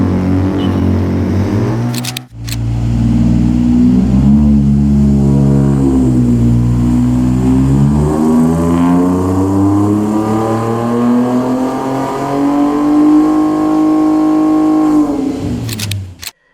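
A 2025 Ford Ranger Raptor V6 with a full Magnaflow exhaust revs loudly up and down, a deep, rising and falling engine note lasting throughout, cut by brief clicks near the start and end.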